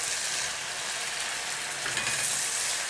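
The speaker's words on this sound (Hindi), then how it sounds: "मैंने उसी दौरान मसाले को भून लिया" Masala spices for aloo dhokli salan fry in a pan with a dense, steady, close sizzle that holds evenly throughout, and no one speaks.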